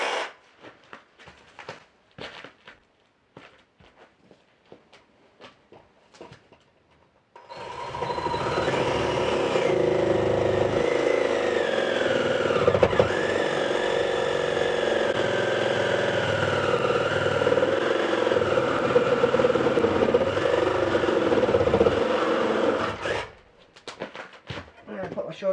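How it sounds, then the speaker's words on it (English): Black & Decker reciprocating saw cutting through a hardwood banister in an old house: a few scattered clicks and handling knocks, then a loud, steady buzzing motor drone lasting about fifteen seconds before cutting off. "got my Black & Decker sawzall"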